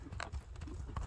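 Hooves of a horse clip-clopping at close range, a few uneven knocks over about a second, with low background rumble.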